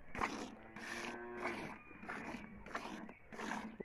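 A cow on a farm lows repeatedly, several drawn-out moos in a row at moderate distance, fairly faint.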